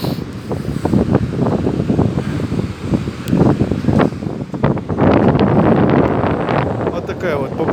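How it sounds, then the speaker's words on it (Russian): Strong wind buffets the microphone on a stormy seaside at Arkhipo-Osipovka, with heavy, irregular gusty rumbles and surf in the background, loud and close throughout. "Все задувает, да? Ветер."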